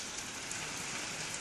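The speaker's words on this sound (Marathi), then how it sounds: "मुसळधार पावसाला सुरुवात झाली आहे" Heavy monsoon rain pours down in Maharashtra, a soft but unbroken hiss of drops falling on surfaces, with no voices.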